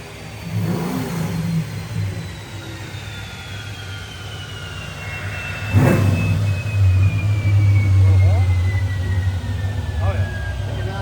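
An Isuzu Trooper engine runs on a dynamometer, droning loudly and climbing in pitch through a long sustained rev, with a sharp surge near the middle. Voices are heard briefly over the engine.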